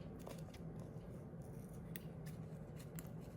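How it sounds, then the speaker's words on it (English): Scissors snip through paper for junk-journal gift tags in a series of quick, close crisp cuts over a low steady background hum. "Let me just cut this little piece off here."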